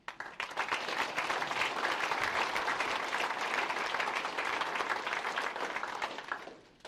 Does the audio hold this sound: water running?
no